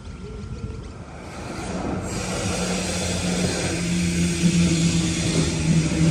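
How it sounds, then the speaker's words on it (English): Series 2 Waratah train set B39 of Sydney Trains pulling into Gordon station, a loud rumbling approach that builds steadily, with high, sustained wheel squeal and whining tones riding over the roar. "Train approaching"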